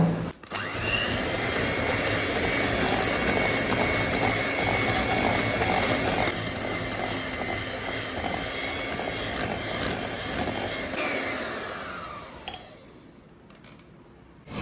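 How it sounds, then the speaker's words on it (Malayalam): An electric hand beater whirs steadily and loudly through cookie batter with vanilla essence, a continuous motor drone with faint ticking that runs for about twelve seconds before cutting off abruptly. "നമുക്കിനി ഒരു ഇലക്ട്രിക് ബീറ്റർ വെച്ചിട്ട് ഇത് നന്നായിട്ട് മിക്സ് ചെയ്ത് കൊടുക്കാം"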